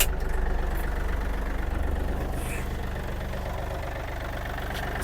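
A warmed-up Yanmar AF-28 mini tractor's diesel engine idles steadily with an even low chug, close and constant throughout.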